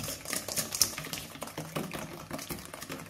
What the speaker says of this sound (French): Donc je remue énergiquement.